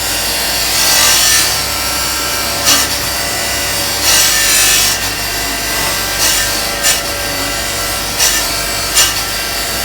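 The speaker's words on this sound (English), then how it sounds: "So that means back to the wire wheel." A wire wheel scours the cam covers of a Ferrari 308 GT4 after welding, giving a steady loud harsh brushing rasp with several brief sharper bursts as pressure on the metal changes, no voices.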